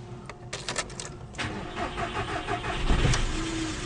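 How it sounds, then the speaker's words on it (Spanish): A manual-transmission Volkswagen Jetta starts up nearby: a short cranking burst, then the engine catches and settles into a steady idle that swells slightly near the end, with no one talking. "El vehículo enciende correctamente."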